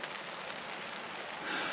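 Rain patters steadily on a tent and campsite during Storm Floris, a dense, even hiss of drops close around with no voices.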